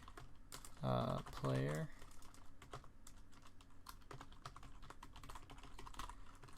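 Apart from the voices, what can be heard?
typing code on a computer keyboard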